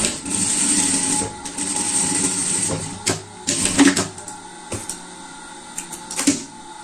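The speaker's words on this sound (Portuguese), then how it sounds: "Agora, vamos passar uma costura de segurança aqui." A sewing machine stitches a safety seam on fabric for a fox-style pet costume: steady mechanical whirring runs throughout, broken by a few louder clicks and knocks near the end, with no talking.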